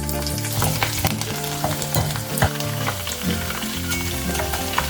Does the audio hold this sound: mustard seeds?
yes